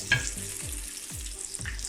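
Batter-dipped poornalu balls fry in hot oil in a pan, a steady close sizzle with a few soft drops as each ball goes in, no voices.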